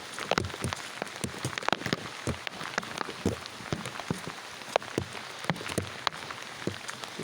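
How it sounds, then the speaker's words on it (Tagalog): Rain falls steadily on a farm field, a constant soft hiss broken by many distinct, close raindrop taps scattered irregularly throughout, with no voices. "Yes, umuulan po guys."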